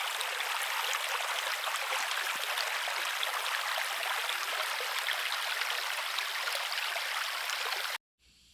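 A Missouri creek flows steadily and close by, a continuous broadband wash of running water with no voices, ending abruptly after about eight seconds.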